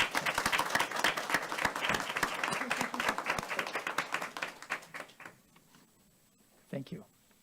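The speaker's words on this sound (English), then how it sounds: "Could we have another round of applause for everyone who's" Scattered applause for board members at a regular monthly board meeting, a modest room of individual claps that thins out after about five seconds, followed by a brief spoken reply.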